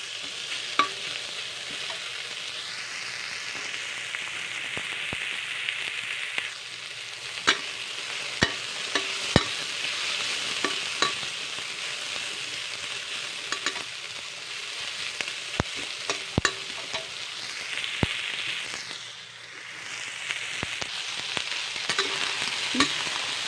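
Mixed vegetables for pancit bihon fry in soya oil in a pan, giving a steady close sizzle throughout with frequent sharp clicks and scrapes of stirring, with no talk.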